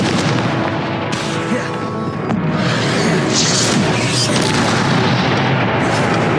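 Confringo fire spell blasts in Hogwarts Legacy on PS4, a run of loud booming explosive impacts with crackling bursts layered over continuous game background noise.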